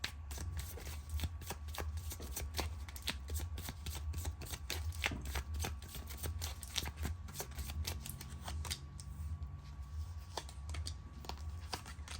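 Tarot cards are shuffled by hand in a steady run of quick soft riffling clicks, close and quiet over a low background hum, with no talking.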